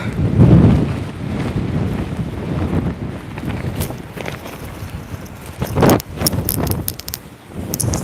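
Gusty wind from tropical storm Nicole blows in St. Augustine, Florida, buffeting the microphone in uneven surges with sharper rustles and a dog walking nearby, no speech.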